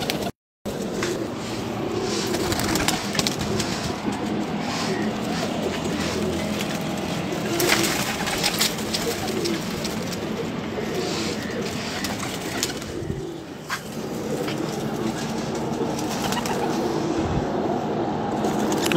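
Pigeons coo in a soft repeated rhythm against a dense background, with occasional wing flutters, faint rumbling traffic or a distant train, and no speech, lasting nearly twenty seconds after a brief initial dropout.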